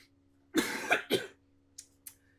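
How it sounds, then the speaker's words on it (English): Three quick coughs in a row, close and moderately loud, followed by two short faint throat sounds over a quiet steady hum. "Cut those coughs."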